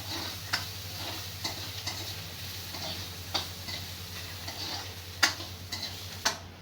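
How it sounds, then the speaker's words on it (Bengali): An egg fries in a pan heated only by the sun in a village setting, giving a faint, soft sizzle with scattered light ticks and clicks over a low steady hum. "দেখি কত টাইম লাগে এই ডিমটা ভাজি করতে"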